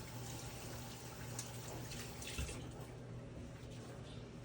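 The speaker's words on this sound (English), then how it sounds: "Let me rinse my hands off." Tap water runs steadily into a sink while hands are rinsed beneath it, a continuous close wash of splashing with faint irregular patters.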